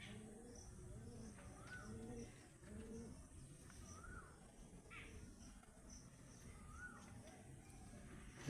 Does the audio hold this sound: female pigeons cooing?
yes